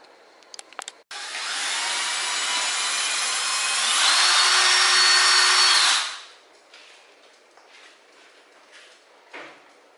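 A power drill bores into wood with tape held underneath to catch dust, the motor whining loudly and steadily for about five seconds and rising in pitch before stopping, with a few light knocks before and after.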